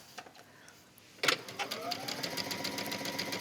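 A sewing machine runs steadily, stitching a rolled hem along the edge of a wrap dress in contrasting thread, starting with a sharp clack and then whirring in a fast, even rhythm.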